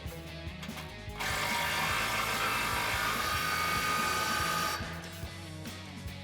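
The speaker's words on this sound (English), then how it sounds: "going to tighten this back down using our 27 mil socket and our 24 mil wrench for our bolt head" Ratchet wrench with a 27 mm socket tightening a radius arm bolt on a RAM 2500 truck: rapid, steady clicking, close and clear, growing louder and busier in the middle before easing back.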